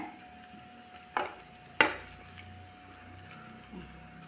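Cooked Kerala-style pork with its gravy tips into a pan with a sharp hiss, then a second louder splash of sizzle, fading into a low steady fry.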